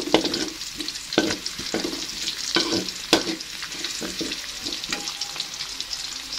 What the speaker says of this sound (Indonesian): bawang putih. Ditumis sebentar.